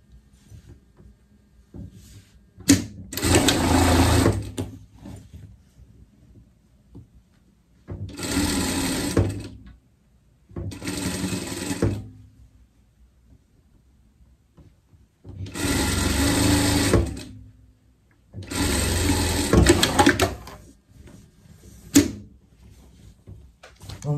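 A sewing machine stitches a pet coat in five separate bursts of rapid, loud mechanical whirring, each lasting about one to three seconds, with quiet pauses and faint handling noises between them.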